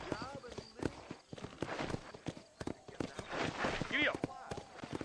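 Horse hooves thud in uneven beats while riding in Red Dead Redemption, mixed with gear clatter and a voice speaking over them.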